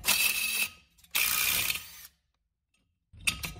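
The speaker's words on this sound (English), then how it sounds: "unscrew the bolt out before popping the rotor off" Brake rotor bolt being unscrewed on a 2008 Toyota Prius, two sustained bursts of ratcheting tool whir followed by a short pause and another brief burst, close and fairly loud.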